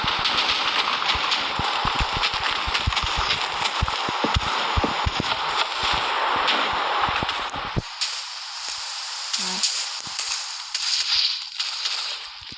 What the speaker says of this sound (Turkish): Patlamayan bir TNT kalmayacak.